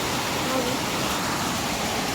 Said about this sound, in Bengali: দেখেছো কি জোরে বৃষ্টি হচ্ছে, মুষলধারায় বৃষ্টি হচ্ছে